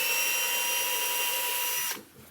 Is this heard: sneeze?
no